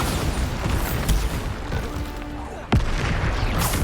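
A Bombarda explosion spell in Hogwarts Legacy, one sharp blast that cuts through a dense, rumbling mix of combat noise and effects.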